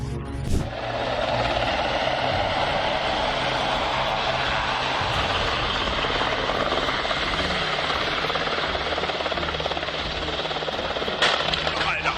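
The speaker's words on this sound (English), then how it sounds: "A second helicopter flew too close to the one that had landed, then lost control and crashed" Helicopter rotor and engine droning loud and close throughout, a steady chopping roar in a Berlin police crash scene, with a sharp impact burst near the start and another near the end.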